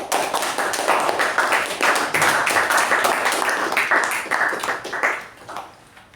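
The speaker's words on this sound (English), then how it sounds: "Let's give him a big round of applause." Applause from a Toastmasters meeting audience for the Toastmaster, brisk, fairly close clapping from a small group that holds steady for about five seconds and then fades out.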